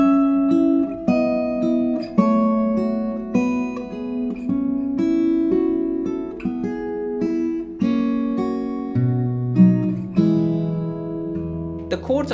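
Solo classical guitar plays the next section of Lágrima, a slow progression of plucked chords under a singing melody line, with notes ringing and overlapping at a steady, gentle pace, close and clear without voices.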